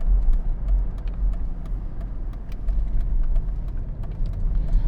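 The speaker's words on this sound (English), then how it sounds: "Now we're driving with the top up for now." A 2009 Mercedes-Benz SL63 AMG driving with the top up, a steady low engine and road rumble from inside the cabin with faint ticks and rattles over it, no talking.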